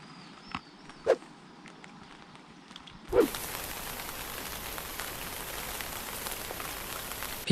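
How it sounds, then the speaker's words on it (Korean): Rain on a canal at a fishing spot starts light with a few isolated knocks, then abruptly turns into a dense, steady patter of heavier drops that continues loudly to the end. "빗방울이 좀 거세지고 있고"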